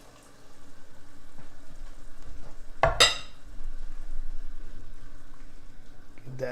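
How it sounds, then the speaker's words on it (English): Milk poured into a simmering bolognese sauce in a pan: a steady low bubbling and sizzle, broken near the middle by a short, bright splash as the liquid goes in, then gentle simmering again. "Let's put the milk in."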